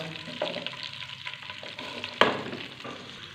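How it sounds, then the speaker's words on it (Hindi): Onions frying in hot ghee for a chicken and turnip curry, a steady crackling sizzle with a sharp spattering burst midway and some stirring, close and with no voices. "इसी घी के अंदर हम शामिल करेंगे प्याज।"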